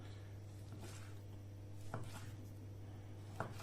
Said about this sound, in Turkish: Şimdi geldik etleri doğrama olayına.